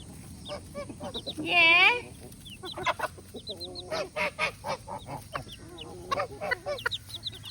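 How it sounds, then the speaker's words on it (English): Baby Frizzle chicks chirp and peep in a pet flock with chickens and a goose, giving bursts of high cheeping and clucks, one loud call standing out early, while a person talks softly nearby. "we got some little baby Frizzles"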